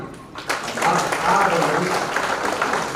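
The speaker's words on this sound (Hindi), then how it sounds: "जोरदार ताली" An audience claps loudly at a gathering on traditional pulse-reading (nadi vaidya) healing, the steady applause swelling after a brief pause and holding for several seconds, with voices mixed in.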